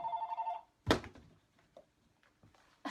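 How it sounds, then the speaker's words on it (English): A telephone rings indoors in a quiet room, a short steady electronic ring that stops after about half a second, followed by a single thump and a few faint knocks. "we have a little phone going on here."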